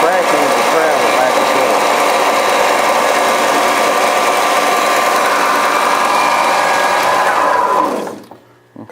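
A belt sander runs loud and steady, a dense motor-and-belt roar holding for about eight seconds before cutting off abruptly near the end.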